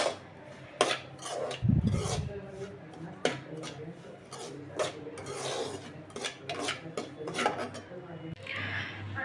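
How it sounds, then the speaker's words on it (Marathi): Semolina is stirred and roasted in a pan for rava sheera, a spoon scraping and rasping against the metal in repeated close strokes with occasional clinks, while someone talks over it. "याला मी व्यवस्थित परतून घेते अगोदर."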